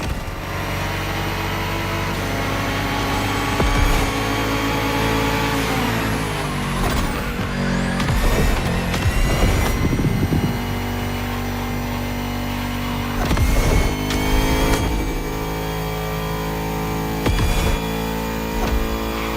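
A Bugatti Vision GT engine in The Crew Motorfest video game drones loudly and continuously, with repeated rev surges and gear shifts, plus several sharp spikes as the car accelerates through the run.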